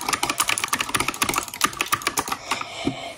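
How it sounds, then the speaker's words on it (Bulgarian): Rapid typing on a new computer keyboard, a dense, continuous patter of close keystrokes with a few louder clacks, no talking. "И сега ще видим как се усеща клавиатурата."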